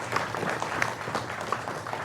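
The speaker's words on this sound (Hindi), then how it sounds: "जोरदार तालियों के साथ अभिनंदन करिए हमारे चारों मेहमानों का" Scattered applause welcoming four guests onto a Hindi TV debate show set, a thin, fairly quiet patter of clapping with no voices over it.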